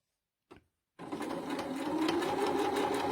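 A sewing machine stitches fabric for a tissue holder. A short mechanical tap comes first, then a steady close whirring run of rapid stitching that grows slightly louder.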